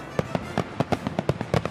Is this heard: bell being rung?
no